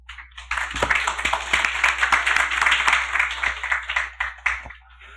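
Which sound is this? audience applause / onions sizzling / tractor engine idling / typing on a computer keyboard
audience applause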